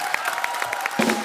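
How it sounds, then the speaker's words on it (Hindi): Studio audience applause on an Indian comedy talk show, a short burst of clapping and scattered cheers heard briefly under background noise. "Superb यार, तालियां जोरदार."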